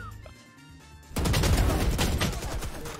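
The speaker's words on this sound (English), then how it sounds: "Oh god, they shot through the wall." Video-game gunfire punching through a wall in a tactical shooter, a sudden loud burst of rapid shots that erupts after a quiet moment and keeps rattling in dense, overlapping cracks.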